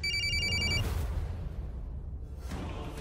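An outgoing phone call rings through with a quick, repeating electronic ring pattern for just under a second, then gives way to a softer, hollow line noise.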